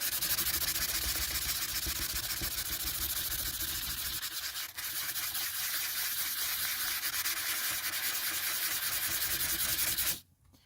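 Close, continuous scratchy rubbing of a rough rainbow opal stone, a steady gritty sanding texture that carries on almost unbroken before cutting off abruptly at the end, without speech.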